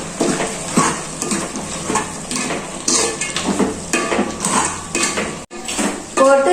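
Spoon scraping and clanking against a metal pot as mutton gravy with chili is stirred, loud close metallic scrapes in an uneven rhythm over a soft sizzle, with a short pause near the end.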